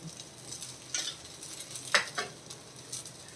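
Rava cucumber dosa frying in oil on a hot pan, a steady close hiss of sizzling with a few soft scraping and stirring touches against the pan, no voices.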